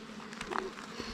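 Honey bees buzz close by at an open beehive during a hive inspection, a steady, faint drone with a brief louder pass near the middle, while quiet voices murmur in the background.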